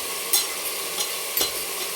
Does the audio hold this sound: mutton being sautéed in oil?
yes